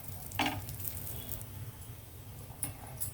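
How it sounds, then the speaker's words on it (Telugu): Cashews and raisins frying in a pan, a faint steady sizzle with a few soft stirring scrapes and brief clicks of a spoon, close and quiet. "జీడిపప్పు కొంచెం వేగిన తర్వాత కిస్మిస్ యాడ్ చేయాలి అంతే కొద్దిగా వేగనిద్దామండి"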